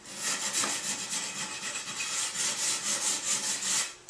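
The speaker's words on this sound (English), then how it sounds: "We hand sand all the corners." Corners of a hardwood floor being sanded by hand, a steady rhythmic rasping scrape repeating in even back-and-forth strokes, close and fairly loud, with no voices.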